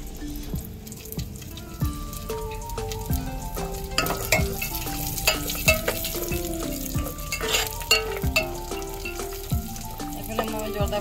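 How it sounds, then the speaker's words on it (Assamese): Dry fruits frying in ghee for zarda pulao, a steady sizzle with clinking and stirring from a pan, close and moderately loud, with scattered tonal music-like tones running underneath throughout. "জৰ্দা পোলাও বনাবৰ কাৰণে ড্ৰাই ফ্ৰুটছখিনি ঘিউত ভাজি লৈছোঁ"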